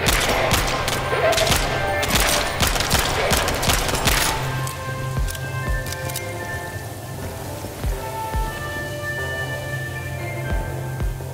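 Weapon fire in the shooter game Kvark: a dense, rapid burst of crackling shots fills the first few seconds, then thins to scattered pops over a lingering ambient hum.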